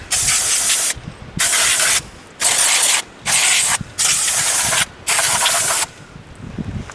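Six bursts of aerosol spray cleaner hissing close up onto a brake part of a third-generation Dodge Ram, each about a second long with short pauses between, over low background clatter.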